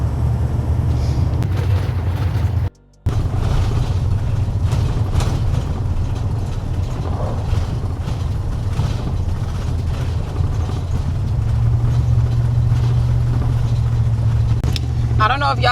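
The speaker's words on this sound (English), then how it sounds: "Like, it's making everything rumble inside the RV." An RV jolts along a badly rutted road toward Joshua Tree. A constant low engine and road rumble mixes with rattling from inside the cabin, broken by one brief dropout.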